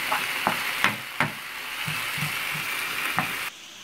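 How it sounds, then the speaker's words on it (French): Onions for homemade tacos sizzle steadily in a pan while a utensil scrapes and stirs them, several distinct close scraping strokes over the hiss before it cuts off abruptly; no one talks. "Et les oignons, on remue de temps en temps."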